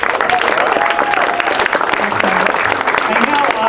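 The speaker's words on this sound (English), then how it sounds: "how about another round of applause for all the participants" Loud, sustained applause and cheering from a crowd at a Startup Weekend event for participants and teams, dense and continuous throughout, with voices mixed in.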